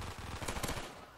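Rapid automatic gunfire from a Call of Duty Zombies match, a dense burst of close, loud shots firing in quick succession for about a second with no talking.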